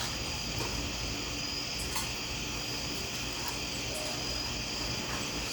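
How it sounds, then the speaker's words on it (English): Crickets and grasshoppers chirping in a dense, continuous, steady chorus of high trilling, moderately faint, with no voices. "it's probably crickets and grasshoppers"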